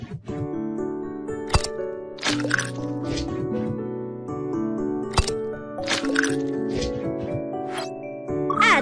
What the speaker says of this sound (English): Make the batter. Crack 3 eggs.